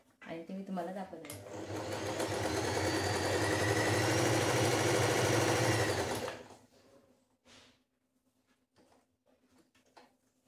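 An Usha automatic electric sewing machine runs steadily for about five seconds, a loud continuous motor whir with rapid stitching clatter, then stops; speech is heard faintly before and after.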